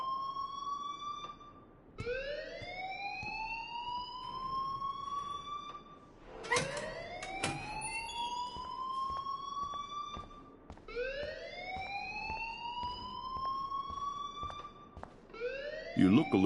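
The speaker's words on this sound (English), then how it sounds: "please turn off that alarm since that's your job." An alarm rings in a video game as a repeating rising electronic wail, cycling steadily and loud, with a person talking over part of it.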